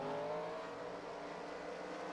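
Race cars in NASCAR Racing 2003 at Richmond roar together toward the line, a steady, loud engine drone with layered harmonic whine throughout, no talk.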